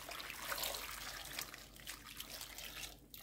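Water from a jug pours into a slow cooker in a home kitchen, a faint, continuous splashing trickle lasting a few seconds and fading slightly at the end, with no talking.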